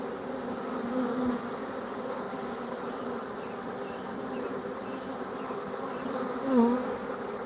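Swarm of honey bees buzzing steadily around a hive outdoors, a dense continuous hum of many wings with one louder bee passing close near the end.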